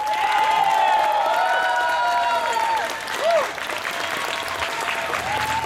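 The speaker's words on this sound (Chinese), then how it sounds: "让我们掌声欢迎来自台东县3仙国小的小朋友们出场" An audience applauds and cheers as children from Sanxian Elementary School in Taitung County walk onstage at a New Year's Eve sing-along concert at Tiehua Village. The clapping is dense and sustained, with tonal voices and cries riding over the crowd noise.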